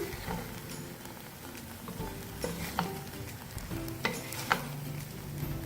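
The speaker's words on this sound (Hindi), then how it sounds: "चावलों को हमने वेजिटेबल के साथ अच्छी तरह से मिक्स कर लिया।" A spoon stirs rice and vegetables in a pan, scraping and tapping close by at an irregular rhythm with faint sizzling underneath, quiet and without talk.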